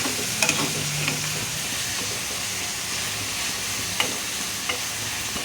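Onions frying in oil with turmeric while being stirred: an even, close sizzle with scattered light clicks and scrapes of the stirring utensil throughout.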